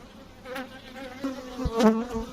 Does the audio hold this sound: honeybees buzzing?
yes